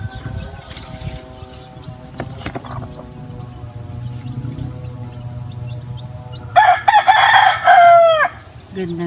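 Hens cluck quietly in a backyard flock kept for eggs, then a rooster lets out a loud, close crow near the end, with a faint hum of the surroundings beneath.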